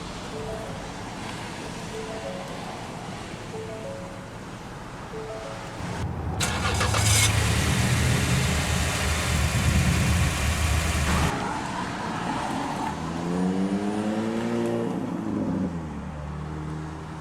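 A 2015 Ford Edge Sport starts with a whirring crank and a loud catch, then holds a steady, strong idle for several seconds before settling into quieter running.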